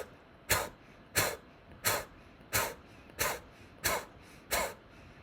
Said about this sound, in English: forceful exhales like we're blowing out a candle